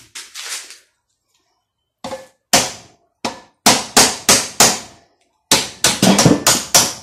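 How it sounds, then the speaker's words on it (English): Sharp hammer strikes ring out one after another, several loud metallic blows in irregular bursts with a short pause near the start. "and then just finish it with the hammer."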